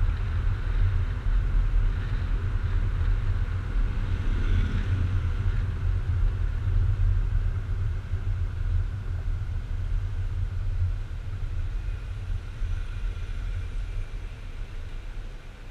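Car driving and overtaking in Paris city traffic, a steady low engine and road rumble close by throughout, with no talking.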